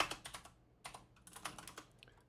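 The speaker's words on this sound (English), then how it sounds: "Okay, let me type. Let me type." Rapid clicking of fingers typing on a computer keyboard, close and fairly quiet, in irregular bursts with short pauses, no voices.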